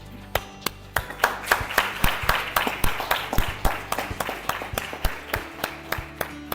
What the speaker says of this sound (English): So why not we just start with an energetic applause?